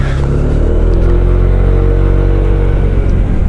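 An electric scooter's motor hums and whirs steadily while riding, loud and close with a constant low drone and no voices.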